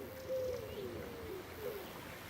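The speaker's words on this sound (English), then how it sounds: "Accompaniment of doves." Doves cooing in the English countryside on a walk from Hanborough to Charlbury, a soft, low, drawn-out series of coos at moderate distance over quiet outdoor ambience.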